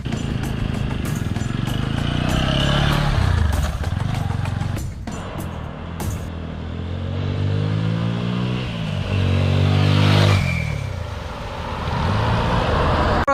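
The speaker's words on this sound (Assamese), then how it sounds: "মোৰ বাইকখন হৈছে আপাচি 160 4V হয় মোটে BS6 হয়" A TVS Apache 160 4V BS6 motorcycle engine runs steadily and is revved, its pitch rising and falling, loud and close, with rattling and road noise.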